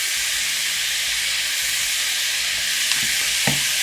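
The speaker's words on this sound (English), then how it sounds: "we're just gonna saute her up" Seasoned stuffed-pepper filling sautéing in a hot pan, a steady loud sizzle and hiss throughout, with a couple of faint utensil clinks near the end.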